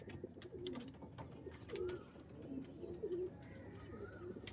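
Soft, repeated cooing of tournament racing pigeons, several low throaty calls in an irregular rhythm, close and fairly quiet.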